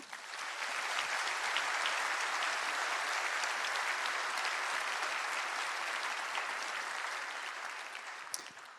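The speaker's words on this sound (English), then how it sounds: "if we can add one more round of applause." A large audience applauds at the closing of the ElevenLabs Warsaw Summit, with sustained, even clapping filling the hall for nearly nine seconds and no one speaking.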